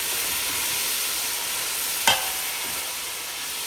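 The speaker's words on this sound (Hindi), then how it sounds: "और साथ ही डाल देंगे हम थोड़ा सा पानी, अराउंड 2 टेबलस्पून के करीब, ताकि हमारे स्पाइसेस बर्न ना हो जाए।" Loud, steady frying hiss of spices in a pan for keema, with a brief splash-like burst as a little water goes in, then the sizzle continues alone.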